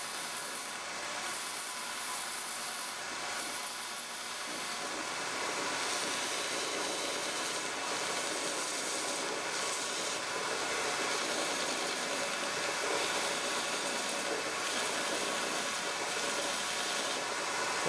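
A belt sander with a light belt runs continuously against a rough turned wood spindle, giving a steady, fairly close whirring, hissing grind that barely changes over the whole stretch.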